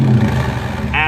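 A 2018 Jeep Grand Cherokee Trailhawk with a Corsa exhaust and cold air intake runs loud and close in a brief low engine drone, steady then fluctuating, with a voice cutting in at the end.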